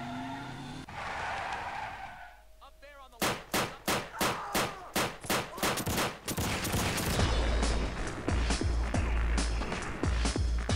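Beretta pistol fire in the video game Max Payne 2: a quick run of about ten sharp, evenly spaced shots rings out, followed by a dense, noisy stretch of game action.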